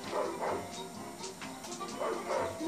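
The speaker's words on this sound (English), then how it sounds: "why do I hear another dog barking?" Several short dog barks and yips from the video game Ed, Edd n Eddy: The Mis-Edventures come in bursts, moderately loud, with some background noise between them.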